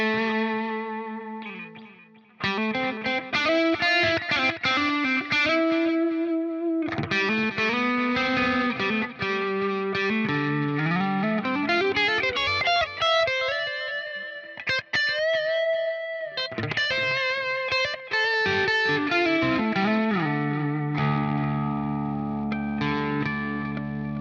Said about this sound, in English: but with the delay and reverb pedals added into it